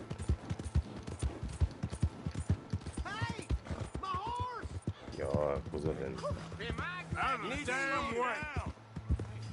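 Rhythmic clip-clop of horse hooves in the video game Red Dead Redemption 2, a steady run of close hoofbeats, with someone talking over the gallop and a horse's whinny-like sounds mixed in.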